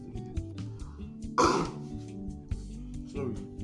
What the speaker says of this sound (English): Can I clear my throat?